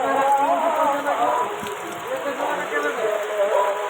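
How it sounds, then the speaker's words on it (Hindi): Heavy rain falling near a house, a dense steady patter and hiss that stays fairly loud and even throughout, with a voice faintly audible underneath. "प्रबल वर्षा होउछि"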